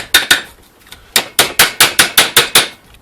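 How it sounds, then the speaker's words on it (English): Steel pipe being hammered around an anvil: a series of about eleven sharp metallic strikes, two quick blows, a pause, then a steady fast run of ringing hits, close and loud. "Let's hammer it to this."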